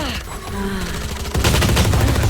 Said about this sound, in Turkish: Abi bir gittim dört kişi vurdu bana dört.